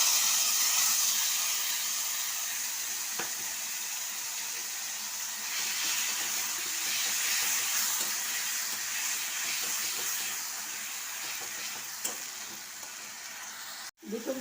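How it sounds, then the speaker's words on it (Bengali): Pomfret fish fries in hot oil in a wok, a continuous close hiss and sizzle with occasional soft pops and stirring, steady until a sharp knock at the end. "কড়াইতে তেল গরম হয়ে গেছে, এবার মাছটা ছেড়ে দিলাম"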